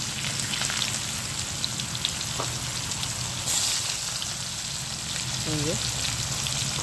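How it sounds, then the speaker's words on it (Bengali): Chopped onions fry in hot oil with whole garam masala spices for a chicken kosha, giving a constant close sizzle and pops, with a brief faint voice near the end. "একটু ভাজা হয়ে আসলে আমি দেখো পেঁয়াজ কিছু দিয়ে দিলাম"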